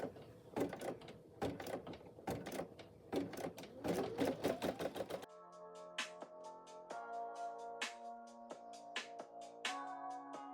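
A Brother embroidery machine stitches an applique design with rapid, steady mechanical clatter; midway the rhythm turns into a cleaner, more even run of stitching beats that keeps going to the end.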